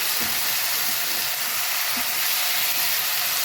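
Chicken cooking in ghee in a hot pan for ghee pepper chicken, a steady, loud, unbroken sizzle with faint scraping and stirring knocks beneath it.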